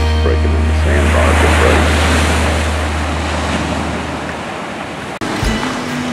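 Ocean waves breaking on a sandbar offshore at Panama City: a steady, loud wash of surf mixed with heavy wind buffeting and a low rumbling hum throughout.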